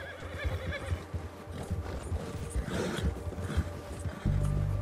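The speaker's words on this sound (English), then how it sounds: "Horse not liking that, that's for sure." Horse neighing in Red Dead Redemption 2 over a run of clip-clopping hooves, a sharp whinny rising midway, with a low engine-like rumble joining at the end.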